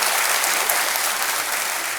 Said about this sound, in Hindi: और तालियों के साथ इनका भी स्वागत करते हैं।